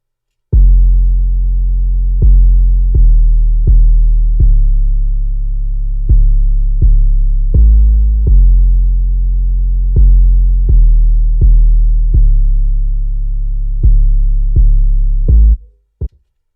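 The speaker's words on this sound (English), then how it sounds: "The Spins 808, I just put a loop on it so it just plays over and over and over as a sub bass." Looped Spins 808 sub bass in FL Studio, a deep booming note retriggered about a dozen times in an irregular rhythm, each hit decaying briefly before the next, loud and alone with no voices, cutting off abruptly at the end.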